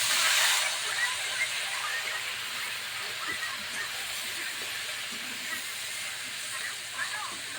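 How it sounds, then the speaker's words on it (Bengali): Jute greens dropped into hot oil give a loud burst of hiss that settles into a steady, continuous sizzle. "পাট শাকটা দিয়ে দিলাম তেলের উপরে"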